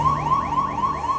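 The Apollo 11 onboard computer's 1202 program alarm sounds as a steady, repeating electronic warble, with rapid pitch sweeps cycling about four times a second, loud and continuous.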